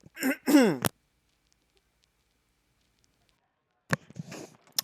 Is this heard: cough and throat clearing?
yes